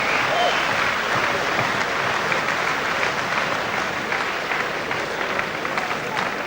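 Loud, sustained applause and cheering from a boxing arena crowd on its feet for a fighter, a dense continuous roar that holds steady throughout.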